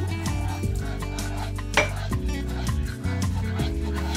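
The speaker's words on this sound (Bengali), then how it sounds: "ব্যাটারের মতন গুলে নেব।" Water being stirred into batter in a bowl, with a continuous scraping swirl and soft clinks of utensil against the bowl, moderately loud and close, no talking.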